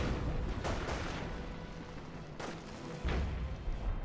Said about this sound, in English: we got a Warfman barrage? Or was that a Hotchkiss barrage?